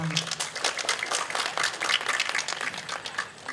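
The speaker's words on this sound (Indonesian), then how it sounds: "Tepuk tangan." An audience claps together during a Balinese pop song stage show, steady rhythmic clapping with voices underneath.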